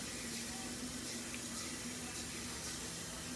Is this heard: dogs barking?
no